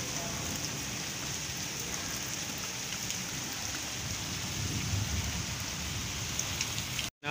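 Steady rain falling in Chattroh, Dadyal, Azad Kashmir, a continuous even hiss of drops on surfaces, moderately loud and unbroken, with no voices.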